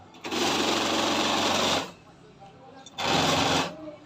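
An electric motor with a faulty hall sensor runs in two stuttering, buzzing bursts, a long one then a short one, with a rapid shaking chatter and a quiet gap between.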